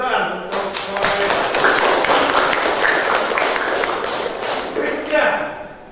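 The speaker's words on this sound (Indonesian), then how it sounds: "Tepuk tangan untuk" An audience claps at a teaching session, a dense run of sharp hand claps lasting several seconds at moderate volume, easing off toward the end.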